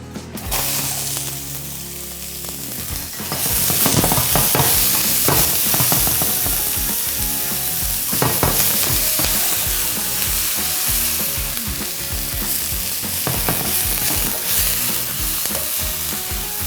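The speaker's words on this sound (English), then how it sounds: "we're going to fry the onions and garlic together and add the kale after that" Onions and garlic, then kale, frying in oil in a pan with a loud, steady sizzle that fills the whole stretch, broken by frequent stirring scrapes and clatters.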